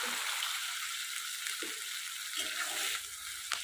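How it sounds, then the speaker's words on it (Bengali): Onions sizzle steadily in a hot pan, a continuous close frying hiss with a few faint clinks of stirring and no talk. "পেঁয়াজ লাল লাল করে ভাজা হয়ে গেছে"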